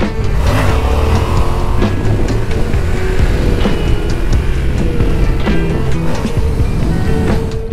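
A Yamaha XSR700 motorcycle roars continuously on a cold fall day during wheelie practice. The engine sits near and loud under heavy wind buffeting, with brief throttle surges.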